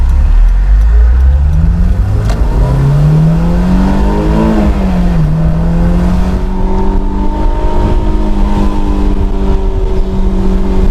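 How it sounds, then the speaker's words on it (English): A Honda S2000 roadster engine revs while driving, its note rising and falling through the gears in a loud, steady drone up close, with no talking. "listen to the amazing engine."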